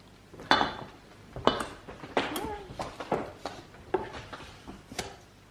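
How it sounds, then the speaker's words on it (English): A spatula stirs dry ingredients in a bowl, giving scattered clinks and scraping knocks against the bowl at close range, with people talking between the strokes. "Do you want to mix all the dry ingredients up with one of the new spatulas?"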